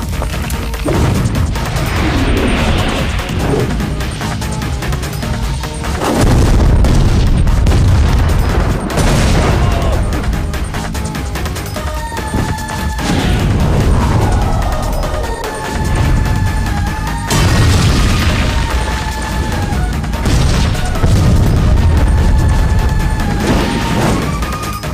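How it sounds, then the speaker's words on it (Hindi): Gunpowder-packed stones fired off in a battle, a loud continuous roar of booming blasts and crashing impacts, with several bigger explosions swelling up over a dense rumbling barrage. "बारूद वाले पत्थरों को फायर करो।"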